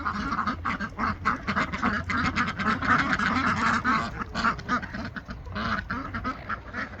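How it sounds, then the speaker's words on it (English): Ducks quack repeatedly while eating at a farm coop, a dense, overlapping chorus of nasal calls close by and continuous. "The ducks are eating."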